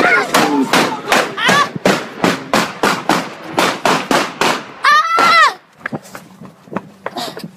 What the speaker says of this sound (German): Und ganz plötzlich ertönen laute Schüsse.